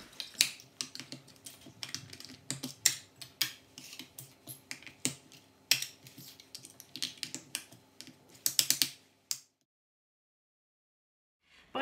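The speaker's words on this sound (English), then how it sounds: "Get a pair of scissors and some sellotape and chop them up into whichever shapes you want" Scissors snip through cardboard delivery boxes being cut into triangles and rectangles, a rapid run of close, crisp cuts and crunches for about nine seconds before falling silent, with one more snip at the end.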